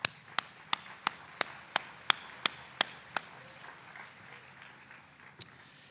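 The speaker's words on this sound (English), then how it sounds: "I want our students to give you a bit of a round of applause right now." Students at a college honor walk ceremony clap, but the sound is a single person's slow, evenly spaced sharp claps, about ten in a row, then a pause and one last clap, in a quiet room.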